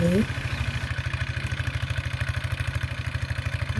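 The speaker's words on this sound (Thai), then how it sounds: "การไถนาแบบเดินตามแบบนี้ก็หาชมยากนะคะ" A walk-behind tractor engine plowing a rice field chugs steadily up close, a fast, regular low thumping with rattling clatter throughout.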